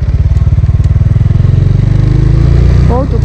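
Honda Biz motorcycle engine chugging loudly and close with a rapid, steady putter that shifts pitch as it downshifts, with a voice speaking over it near the end.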